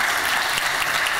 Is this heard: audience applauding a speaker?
yes